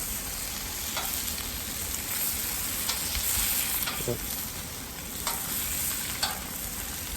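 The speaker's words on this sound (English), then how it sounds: "Always turn the bacon when you're frying something." Bacon sizzling and crackling steadily on a hot Blackstone griddle, with faint clinks and scrapes from a utensil and a brief word spoken nearby.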